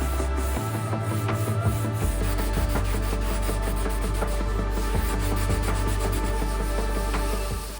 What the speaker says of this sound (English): I think I spent more time sanding than actually building the track